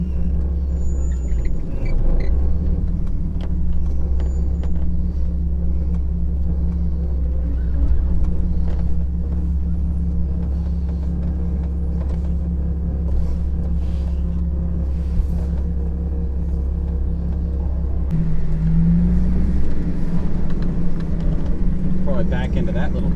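An off-road vehicle with a manual transmission crawling in low gear through a canyon, its engine a steady, heavy low rumble with little throttle, and a shift in tone near the end; someone talks over it.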